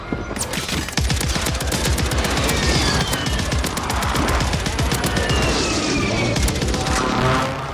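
Gunfire in Warzone, the Call of Duty battle royale on Rebirth Island: a dense, nonstop barrage of rapid automatic shots and overlapping bursts, loud and close throughout, with no voices.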